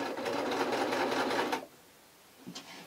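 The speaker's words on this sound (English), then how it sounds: "I'm going to reverse stitch because this is a permanent seam" A sewing machine reverse stitches a permanent seam on a T-shirt, running in a fast, steady mechanical whir for about a second and a half, then stopping abruptly, followed by a couple of faint clicks.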